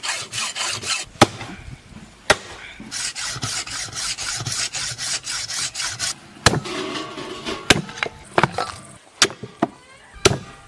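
A hand saw rasps back and forth through hard beef marrow bones in a home kitchen, a steady gritty scraping broken by sharp knocks and pauses, close and fairly loud.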